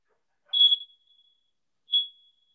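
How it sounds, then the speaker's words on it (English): A smoke alarm in a home chirps twice, a piercing high electronic beep followed by a shorter second beep after a pause, clear against near silence. "Or maybe that is the fire alarm."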